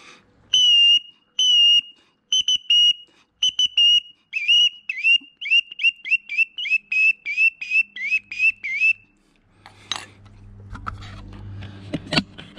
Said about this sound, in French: Ce type de sifflet, pareil, c'est pour les limicoles, ça.